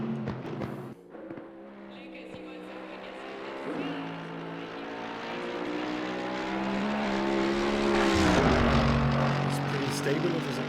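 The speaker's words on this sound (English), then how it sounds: "I really love this sound of this car." A GT race car engine in Assetto Corsa Competizione whines and climbs through the revs, shifting pitch up and down, with a voice talking over the steady roar.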